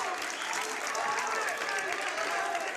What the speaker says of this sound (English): Crowd lets him hear it.